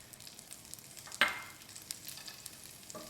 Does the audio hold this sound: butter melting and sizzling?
yes